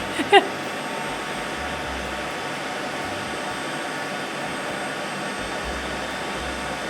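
An xTool F1 laser engraver burns a design into wood while an air purifier runs beside it, giving a steady, even broadband whoosh of fan airflow throughout, with a couple of faint clicks near the start.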